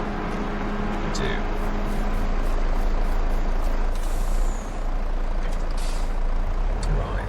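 A lorry in the video game Farming Simulator 22 rumbles with a heavy diesel engine and gives a couple of sharp air brake hisses, with someone talking over it.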